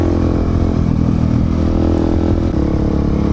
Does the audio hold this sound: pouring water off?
no